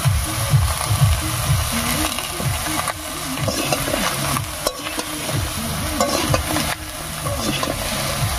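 Chopped bottle gourd stirred in oil left over from frying fish, with a close, continuous sizzle and repeated scraping and clacking of a spatula against the pan.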